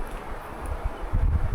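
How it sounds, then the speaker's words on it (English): Wind gusting through trees at a bush camp in New Zealand, with a low rumbling buffet, swelling louder toward the end of a short stretch. "It's starting to get a little bit windy too"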